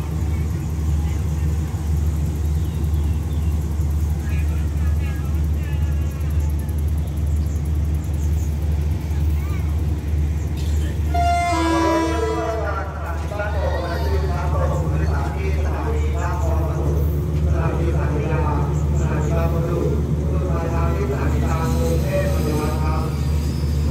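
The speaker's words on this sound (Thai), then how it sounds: "นี้รถเร็ว170นะครับก็ทำเข้าสถานีบ้านโป่ง" Rapid train 170 rolls into Ban Pong station with a constant low rumble. Partway through, a loud, wavering horn or brake squeal rises and persists beneath the running noise.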